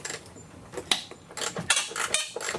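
An Allen socket wrench works on the bolts of a car bumper cover with soft metallic clicks and ratcheting taps, quiet and intermittent at first and then a denser run of clinks near the end.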